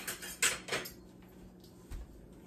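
A cast-iron skillet holding bacon grease is handled and set into a 425-degree oven, with a few sharp metallic clanks and scrapes up close, followed by quieter rustling and a low thud, with no talking.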